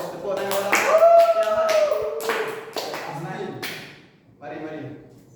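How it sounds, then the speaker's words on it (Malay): A class of students claps hands during an Islamic creed lesson, with scattered sharp claps breaking up loud, close voices talking and chanting in the room. "Okey, bagus. Tepuk tangan orang."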